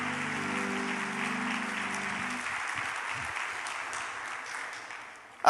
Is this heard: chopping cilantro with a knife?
no